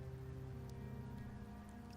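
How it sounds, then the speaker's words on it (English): Rain falling in a video game called Wuthering Waves, a steady, dense patter with a low rumbling bed, faint and continuous with no voices. "The rains in Septimont never seem eager to leave this season."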